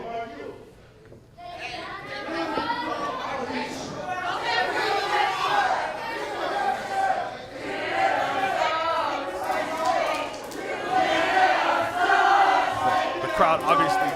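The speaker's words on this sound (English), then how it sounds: "Crowd obviously showing their disapproval for the Canadian Red Devil." Wrestling crowd at an independent show jeering and booing a heel wrestler, a roaring mass of voices that swells and rises over several seconds, with scattered shouts.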